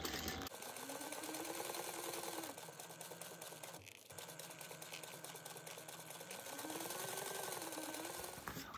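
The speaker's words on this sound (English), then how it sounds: "I'm going to lengthen my stitches, and you're going to sew around, all the way around, at an eighth of an inch." A sewing machine runs steadily with lengthened stitches, basting lining and fabric layers together about an eighth of an inch from the edge. The motor drone is close and continuous, easing briefly around the middle before picking back up.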